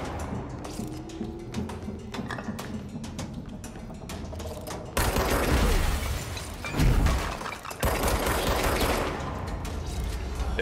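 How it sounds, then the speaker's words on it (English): Enemy sniper rifle and other weapon fire in the game Control, a dense, continuous barrage of loud gunshots that thickens and grows louder midway, with repeated sharp cracks and no talking. "Like these guys got like some kind of sniper rifle."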